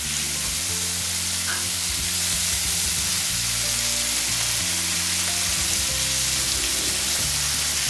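Pieces of tandoori chicken fry in a pan with a loud, continuous close sizzle and crackle of hot oil, the spitting growing a bit stronger partway through.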